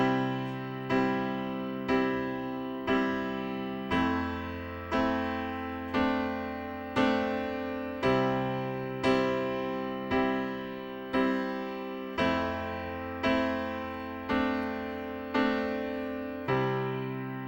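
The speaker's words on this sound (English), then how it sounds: "Now we're going to learn our first chord progression" Piano plays a first simple chord progression with the bass note on the low end, each chord struck on a steady beat and left to ring, about a dozen evenly spaced strikes, clear and unaccompanied.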